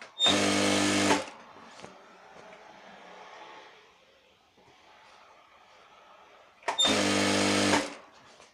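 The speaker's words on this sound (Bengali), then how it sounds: "প্রথমে একটা এভাবে সেলাই দিয়ে নেবেন এভাবে সেলাই দিয়ে নেবেন পুরোটাই" A sewing machine stitches a petticoat in two loud, steady bursts, one at the start and one near the end, with quiet handling between them.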